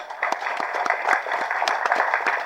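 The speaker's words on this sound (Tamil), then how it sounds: "ஒரு கைத்தட்டல் கொடுக்கலாமே" Scattered, moderately faint clapping from an audience at a film audio launch event for Silambam, with uneven individual claps rather than a full roar.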